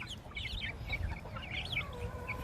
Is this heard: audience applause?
no